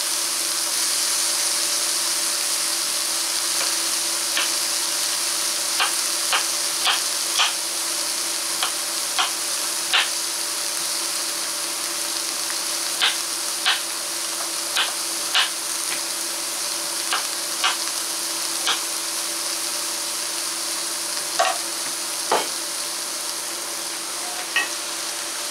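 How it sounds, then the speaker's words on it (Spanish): Cauliflower sautéing in a pan, with a constant even sizzle and a scattering of brief ticks and taps from stirring throughout, close and steady, with no talking. "Y vamos a sofreír bien esto hasta que la coliflor se cocine"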